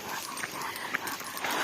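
Several dogs out on a walk give faint, scattered yips and whimpering barks at a distance, with no one talking.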